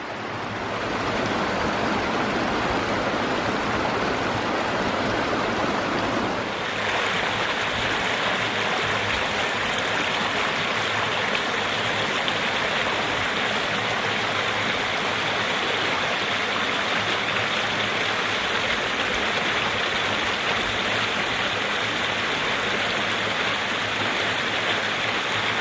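Creek water flows steadily along a wooded trail below bluffs, a continuous rushing wash that grows fuller and louder after a few seconds.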